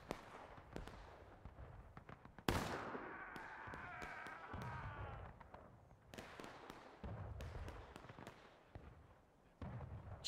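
Muskets fire independently in a War of Rights battle, scattered loud cracks and bursts rolling at varying distances, with a sustained shout or cry breaking in among the shots.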